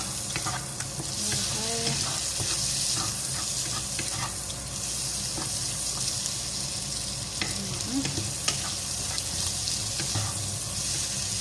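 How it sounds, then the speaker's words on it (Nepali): Chicken fries in a pan, producing a continuous close sizzle with scattered crackles and pops and occasional stirring over several seconds, fairly quiet and with no talking. "यसलाई चाहिँ मजाले भुटिँदै गएपछि पड्किँदै जान्छ"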